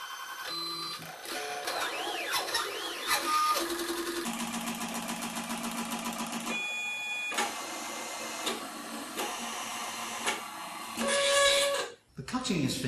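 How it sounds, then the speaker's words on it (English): A craft cutting machine works a celebration card, its motor buzzing and whirring steadily with shifting tonal moves, briefly pausing and ending in a louder burst and a short silence; no talk. "The cutting is finished, so we can now take it out of the machine."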